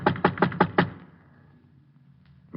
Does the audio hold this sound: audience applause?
no